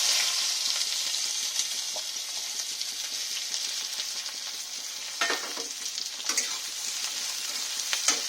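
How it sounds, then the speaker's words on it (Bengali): Chopped onions frying with black cumin in a pan, a loud continuous hiss and sizzle with occasional bursts of stirring, close and without voices. "দুটো বড় বড় মিডিয়াম সাইজের পেঁয়াজ কুচে রেখেছিলাম সেটাকে দিয়ে দিলাম"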